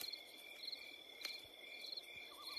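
Crickets chirp steadily at night in woods, a dense, faint, continuous trilling chorus with pulsing high chirps and no voices.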